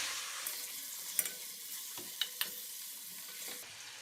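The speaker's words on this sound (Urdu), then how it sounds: "گوشت ڈال کر بھون لیں۔" Mutton frying in oil with onions and garlic in a pan gives a quiet, steady sizzle, broken by a few light clinks and scrapes as it is stirred.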